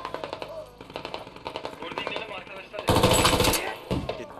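Machine gun fire in the video game Squad, rapid bursts of close shots running until the magazine empties, with a louder dense stretch near the end and a voice talking under the gunfire.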